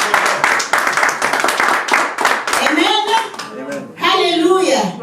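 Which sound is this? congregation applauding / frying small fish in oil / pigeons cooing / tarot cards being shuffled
congregation applauding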